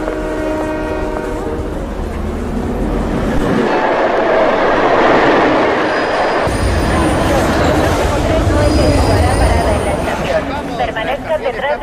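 Train noise at a station in the video game Hitman Absolution: a rumbling railcar passing with a horn blast, clattering wheels and a Spanish platform announcement over the din.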